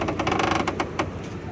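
Stiff car door window glass mechanism grinding and clicking in rapid, rhythmic ratcheting bursts, close and fairly loud, with no other sound around it.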